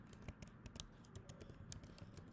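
Quiet, rapid typing on a computer keyboard, with irregular clusters of light key clicks tapping steadily throughout and no talking.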